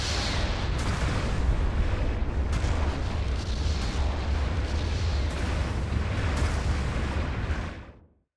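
Long-range artillery barrage in Gundam Battle Operation 2, a dense continuous rumble of overlapping explosions and booms that holds loud for nearly eight seconds, then cuts away quickly at the end, with no voices.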